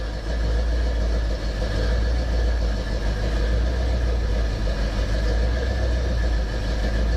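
An EFI engine idles steadily after a cold start on a cold day, having sat for about two and a half weeks. The rumble is close, loud and continuous, with no break and no talking.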